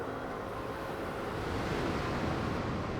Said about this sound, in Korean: 고주파에서 시작해서 점차 주파수를 낮춰 저주파 파도를 만들고 있죠.